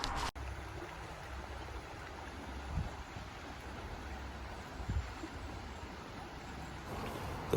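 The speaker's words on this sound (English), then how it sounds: "the creek is running really strong since we've had some rain today" A rain-swollen creek running strong, its steady broadband rush of water continuous and fairly close, with no voices over it.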